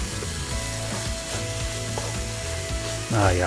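Ginger and garlic sizzling in a hot pan for beef with broccoli, a steady close frying crackle with rhythmic scraping stirs, and a brief voice breaking in at the end.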